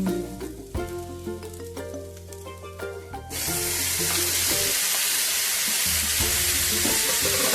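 Chopped tomatoes tipped into a pan of sautéed onion for an eggplant bharit erupt into a loud, steady close sizzle, following a stretch of quieter stirring and clatter; no one talks.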